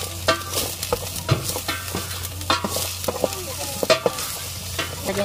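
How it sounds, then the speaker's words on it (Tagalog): Garlic, onion and ginger sautéing in hot oil in a pan for pork sinigang. A continuous close sizzle is punctuated by repeated clicks and scrapes of a stirring utensil, with no voices. "Ayan, gisahin natin guys."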